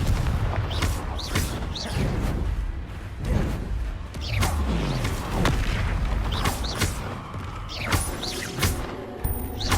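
Fire-explosion spells and combat effects in the Hogwarts Legacy video game burst out in repeated booms and whooshing blasts with mechanical clatter, dense and loud throughout, as spell names are called out.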